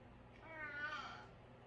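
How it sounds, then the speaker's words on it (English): A cat lets out one drawn-out, grumpy meow indoors, rising and then falling away, close but fairly soft, with no talking. "That's the grumpiest meow I've ever heard."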